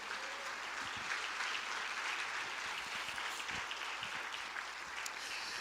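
A church congregation at a Quadrangular worship service claps together in a sustained, fairly distant round of applause, a dense wash of handclaps with no one talking over it.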